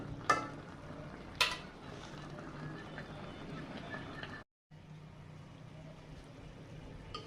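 Lau shak, bottle gourd greens, cooking in mustard oil in a pan, a steady low sizzle and bubbling heard close and alone, broken by two sharp clinks of a utensil and a brief silent gap.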